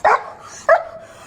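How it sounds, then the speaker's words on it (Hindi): A dog gives two sharp, close barks about half a second apart, the second trailing into a brief whine. "यो मैक्स को देख के भौंक रहा।"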